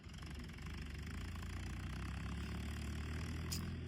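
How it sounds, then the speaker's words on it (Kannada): A Mahindra tractor engine runs steadily at a low, even throb, a continuous mid-low drone with a faint knocking texture that holds unchanged throughout, fairly quiet and with nobody talking. "ಮಹೀಂದ್ರ ಅಂದರೆ ಕಮ್ಮಿ ಅಲ್ಲ ಗುರು ಪವರ್ಫುಲ್ ಗಾಡಿ ನೋಡಿ ಅಲ್ಲಿಂದ ಬರ್ತಿದೆ"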